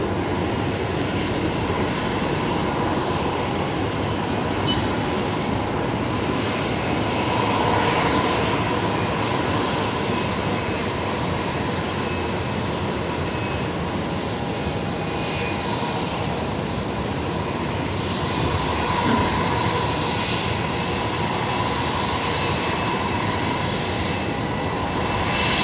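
A Velocity Boeing 737 MAX 8 lands at Brisbane Airport, its jet engines producing a loud, steady roar that holds without a break throughout.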